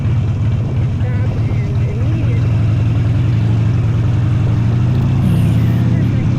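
A motorcycle engine drones loud and close as the rider eases through the clutch friction zone and adds throttle to pull away on a bumpy road, its pitch climbing slightly near the end, with faint talk underneath.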